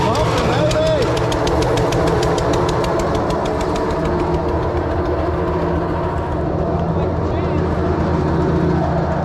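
A V-twin engine on a piece of heavy equipment runs loud and close with a steady, throbbing knock, rough and continuous throughout, while people talk over it.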